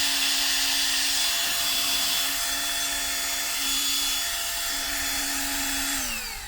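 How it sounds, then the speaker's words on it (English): A Flextail Max Pump 3 mini air pump runs with a loud, steady high-pitched whirring drone, close up and without pause, then winds down at the end. "So that's the pump."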